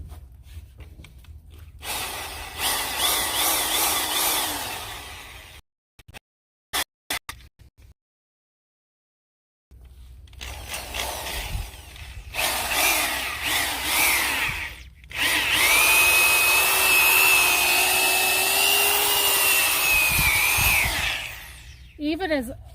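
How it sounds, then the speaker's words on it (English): Power auger grinding into wet, hard garden soil: loud, rough bursts of motor whine and churning dirt come in several stretches, broken by pauses and a brief silence, with the longest, strongest run near the end. A voice is heard in places. "I need to take the auger to it a couple more times to try and loosen up this dirt."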